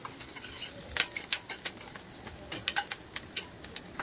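Chopped tomatoes go into a pan of browned frying onions, heard as bright metallic clinks and scrapes of a utensil against the pan over a faint sizzle, in short irregular bursts with no talking.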